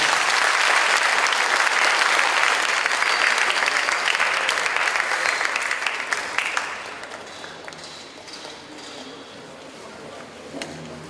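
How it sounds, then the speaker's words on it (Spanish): A large audience at a commemorative event for José María Arguedas applauding loudly and steadily, the clapping gradually thinning and fading toward the end. "Fuerte el aplauso para nuestro gran amauta José María Arguedas."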